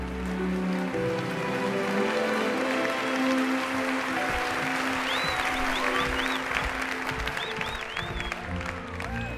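An audience at a talent show applauds long and loudly, a dense rain-like patter of clapping with whistles and cheers mixed in and music beneath.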